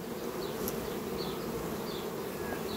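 Honeybees buzz steadily at a hive entrance while defending it against intruders, a dense close hum with a few brief higher passes of individual insects.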